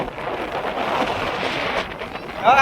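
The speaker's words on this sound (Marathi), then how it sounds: "सुसाट सुटलाय वारा" Strong wind roars into the microphone during a thunderstorm at Guhagar, a steady blustery rush, with a voice starting just at the end.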